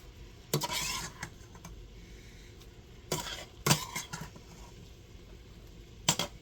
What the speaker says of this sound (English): I'm going to take it out and put it in that same bowl that I had it in.